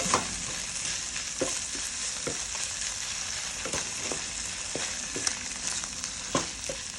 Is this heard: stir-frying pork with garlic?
yes